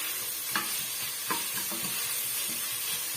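Mutton masala sautés in a pan while being stirred, a continuous hissing sizzle punctuated by a few distinct scraping strokes of the spoon; no voices.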